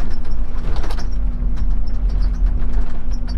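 A loud, rumbling Volvo truck engine exhaust runs steadily, with low sputtering and rattling up close and no voices.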